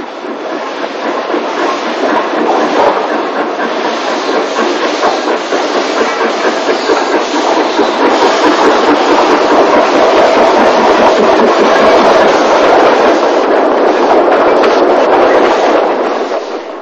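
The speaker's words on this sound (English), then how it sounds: "Hutchinson sets off for Port Erin. This was a very heavy train" Isle of Man Railway steam locomotive Hutchinson hauls a very heavy train out of Douglas toward Port Erin in the 1960s, with a loud, sustained roar and clatter that stays dense and unbroken throughout, with no speech.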